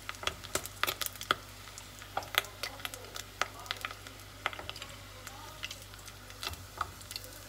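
Rolled corn tortilla flutes frying in a pan of oil, with a steady bed of sizzle broken by frequent sharp crackles and pops, moderately close, with no talking.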